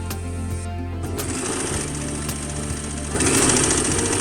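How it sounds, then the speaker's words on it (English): A sewing machine stitches a half-centimetre hem along the bottom edge of a garment, running steadily and close with a dense mechanical whir, then speeding up and growing louder near the end. "And lastly, I will do the hem at the bottom."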